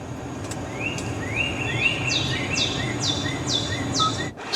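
Lively forest ambience plays from the soothing sound system of a 2021 Kia Sorento X-Line AWD: repeated bright bird calls and chirps over a steady hiss of background, clear and fairly loud inside the cabin.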